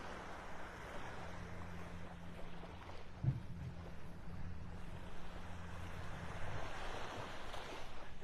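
Ocean surf washes onto a beach in North Naples, Florida, a faint, continuous rush with wind noise and one brief soft bump partway through.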